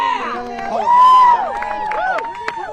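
A crowd cheers and shouts at a press briefing featuring Steve Bannon and Marjorie Taylor Greene. Loud, overlapping whoops and yells swell near the middle, then continue as a steady, raucous din.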